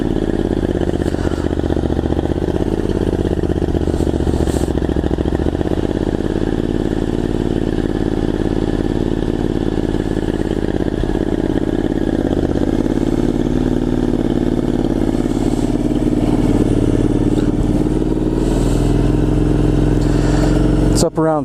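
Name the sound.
Triumph Scrambler 900 motorcycle engine idling with choke on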